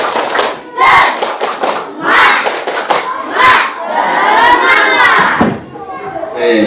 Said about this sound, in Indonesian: Silakan kalian tepuk semangat.